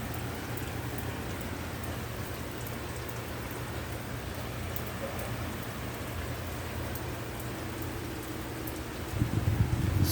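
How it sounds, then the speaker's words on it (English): Steady rain falling on a rainy day in Panama City, Florida, a dense continuous hiss of drops close by, with heavier spattering near the end. "Check out this rain."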